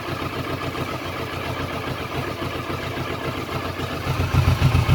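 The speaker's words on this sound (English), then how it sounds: "we are now ready to start the engine" A motorbike engine idles after a fresh oil change and engine flush, a steady clattering mid-pitched chug that grows louder and heavier in the final second.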